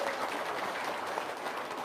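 An audience claps at a religious lecture gathering, a brief burst of dense, even applause heard throughout with no talking.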